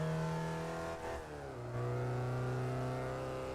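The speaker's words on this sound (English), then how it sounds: "it sounds like the Porsche Taycan plus like a really weak 4-cylinder" A sports car revs in the Test Drive Unlimited 2 racing game, its engine giving a steady, droning tone with a brief dip and a pitch shift partway through, then settling into a sustained hum, with no talk.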